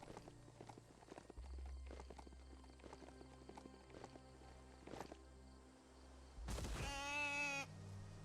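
Horse hooves clip-clop in the video game Biomutant, a steady run of light hoof beats, then a loud burst of animal bleating near the end.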